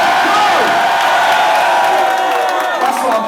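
A crowd at a Don't Flop rap battle roars with loud cheering, whoops and applause, a dense wall of sound throughout, with voices shouting through it.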